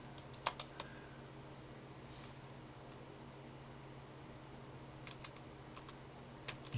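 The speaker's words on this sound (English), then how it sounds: "I'm just using the keyboard." Keystrokes on the keyboard of a vintage Toshiba T4900CT laptop running a Windows 95 golf game, a few sharp clicks early and a small cluster later, faint over a steady fan hum.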